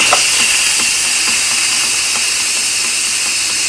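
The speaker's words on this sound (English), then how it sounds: "And let our pressure out." Steam blasting out of an Instant Pot pressure release valve after cooking butternut squash, a loud, steady, close hiss that holds without letup, no voices.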